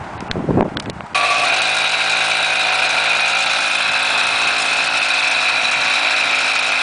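A motorized pedal bicycle, a Triple Threat PedalChopper, idles with a steady, loud buzzing engine drone that begins after a second of brief handling noise and runs evenly to the end.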